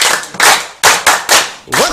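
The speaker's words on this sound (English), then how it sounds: "Clap for her." Several sharp bursts of hand clapping from a small group at a Nigerian university gathering, coming in uneven clusters, close and loud, with a voice briefly heard at the end.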